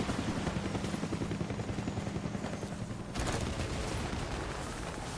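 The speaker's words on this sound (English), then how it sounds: "helicopters spamming missiles, or rockets." Helicopters loosing rockets and missiles in the video game Death Stranding: a loud, steady rotor drone with dense, rapid bursts of gunfire-like blasts that swell again after a brief dip, with no talking.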